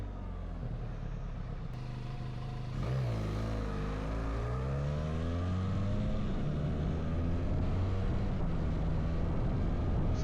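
A Harley Davidson X500, a 500cc learner motorcycle, riding on the motorway, its engine droning steadily then rising in pitch as it accelerates through gears, loud and close with wind roar.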